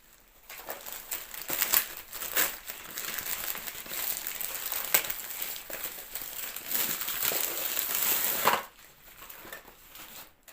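A monthly subscription cargo box is unpacked, with plastic packaging crinkling and rustling close up in continuous bursts for several seconds before stopping abruptly, no talk over it.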